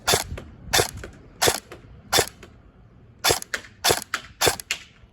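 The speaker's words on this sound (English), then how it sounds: "So we will give it a little test shot for you guys to see." Black Rain Ordnance Spec 15 airsoft rifle firing eight sharp, loud shots at irregular intervals, some in quick pairs, with no talking.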